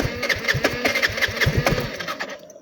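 A motorbike engine being cranked and started after an accident, a rapid chugging, sputtering run of firing pulses close by that fades out at the end.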